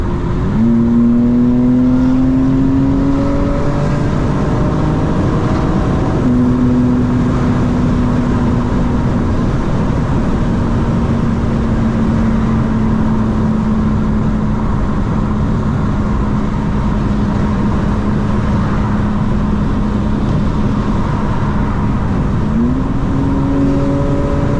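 A 2025 BMW M4 Competition xDrive engine revs loud and steady in a sustained drone as launch control holds it, with the pitch stepping up near the start and again at the end, all under heavy wind rumble.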